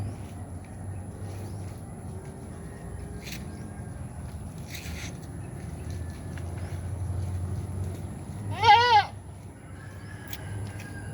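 One short, wavering goat bleat rises once near the end, fairly close, over a quiet outdoor background with faint distant sounds.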